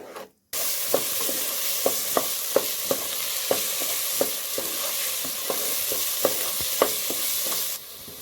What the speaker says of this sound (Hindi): और अब हम फ्लेम हाई करके इसको 1 से 2 मिनट तक के भून लेंगे।